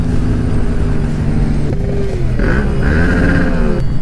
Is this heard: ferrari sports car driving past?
yes